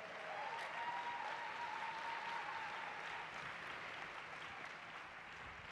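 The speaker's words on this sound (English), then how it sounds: "please give them a big round of applause" An audience at a Relay For Life summit session applauds from a distance, a faint, continuous clapping texture joined by a sustained tone early on, holding steady across the whole stretch.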